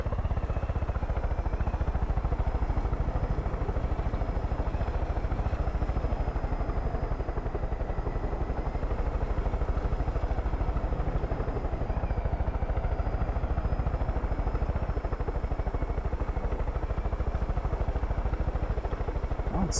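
A helicopter's rotor and engine in the video game Far Cry 5 drone continuously at close range, a dense steady thrum with a faint high whine running throughout.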